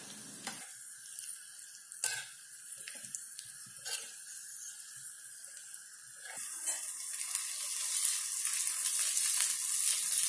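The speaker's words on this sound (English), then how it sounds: "cashew now I am frying in ghee" A steady, crackling sizzle of cashews frying in hot ghee, growing louder and denser toward the end, with a few soft clinks of stirring.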